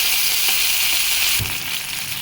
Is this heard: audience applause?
no